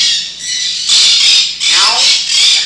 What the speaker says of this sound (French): Là, c'est un ménate, là. Un ménate parleur.